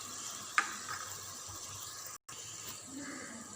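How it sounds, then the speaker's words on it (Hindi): Salt, red chilli powder, garam masala and ginger powder fry for beef yakhni pulao, giving a faint, steady sizzle close by with a brief stir-like tap near the start. "2 मिनट तक मैं इसको फ्राई करूँगी"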